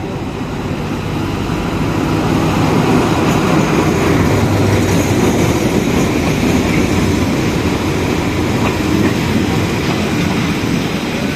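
Locomotive number 4411 rolls past at Bang Sue Junction in Thailand, a loud, steady rumble of engine and wheels lasting throughout, close by.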